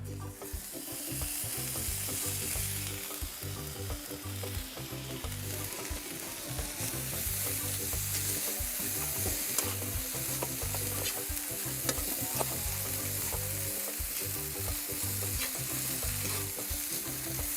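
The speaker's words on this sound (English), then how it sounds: "so now we're gonna add our shrimp, or crayfish to be exact" Crayfish sizzle steadily in a non-stick frying pan and are stirred with a metal fork, giving a loud continuous frying hiss with frequent small scraping clicks from the fork, and no talking.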